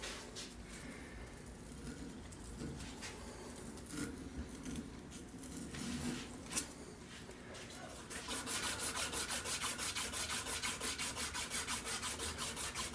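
Hand sanding of an antique brace with sandpaper: soft scratchy rubbing at first, then rapid rhythmic back-and-forth strokes that grow louder and more regular, close up and without talking.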